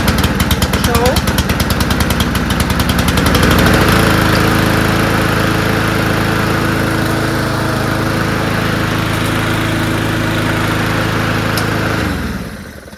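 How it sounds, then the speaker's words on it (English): Small push mower deck fitted with a retrofitted Cub Cadet engine, starting after a pull with the choke on and then running steadily and loudly up close for about eight seconds before cutting out near the end. "retrofitting basically the Cub Cadet engine onto a really low profile, small, basic push mower deck"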